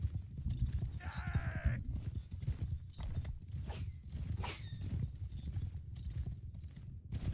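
Cavalry horses galloping across a battlefield in the video game Mount & Blade 2: Bannerlord, a steady dense clatter of hoofbeats running throughout, with a brief whinny-like tone near the start and no talk.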